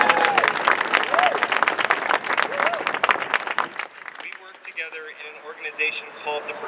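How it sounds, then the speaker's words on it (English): A crowd applauds Councilmember Jimmy Van Bramer at a compost site ribbon cutting, dense steady clapping with cheering voices over the first four seconds before fading into lighter scattered claps and murmur. "a huge round of applause."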